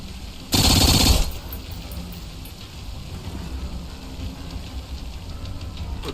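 A short loud burst of automatic gunfire in the tactical game Phantom Doctrine, lasting under a second, then a low steady ambient hum with no talking.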